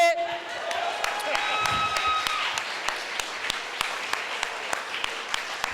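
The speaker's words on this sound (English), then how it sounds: "Can we have a round of applause for this outfit?" Audience at a socialist party congress applauds with scattered claps and a few cheers, a steady moderate patter throughout with a voice and a brief tone heard at the start.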